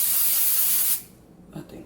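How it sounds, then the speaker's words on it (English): A loud continuous spray of purple hair color hisses for about a second, then stops abruptly, leaving a quiet room with a faint rustle. "Should I spray a little purple on it?"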